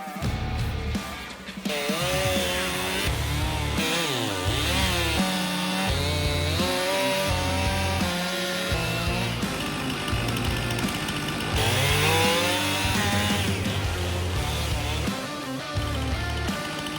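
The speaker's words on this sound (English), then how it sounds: "Time to get the chainsaw warmed up and the few little trees cut down." A chainsaw cuts down a few small trees in a yard, its engine whining and revving up and down steadily and loudly, close by, with no talk over it.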